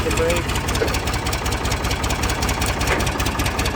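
A Ford 445D tractor engine running at a steady idle, a loud, even diesel chug with a rapid knocking rhythm throughout, while someone speaks briefly over it.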